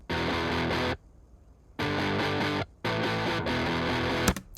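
Crunchy, distorted electric guitar in a music mix plays three loud, dense bursts of chords separated by short silent gaps, with a quick stuttering glitch near the end.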